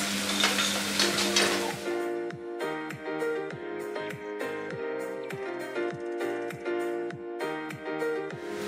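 Shrimp sizzling in a pan with peppers, onions and mushrooms, a burst of loud hiss at first that gives way to softer frying under rhythmic percussive music, close and steady with no speech.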